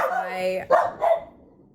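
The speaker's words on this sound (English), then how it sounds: "is my dog yelling" A dog gives a couple of short, sharp barks close by indoors, following a brief sustained whine, with nothing else heard around them.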